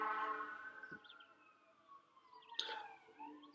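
Faint, distant sirens wail with long gliding tones that slowly fall and rise, blending into one another amid quiet outdoor background noise.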